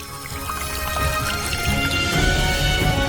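Water is poured into a flask, a continuous splashing and trickling stream that stays fairly loud and steady for about three seconds with no talking.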